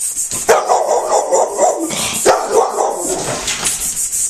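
Pit bulls and a chihuahua play together, letting out repeated close, loud barks and yips in quick bursts with small whimpers mixed in, nobody speaking.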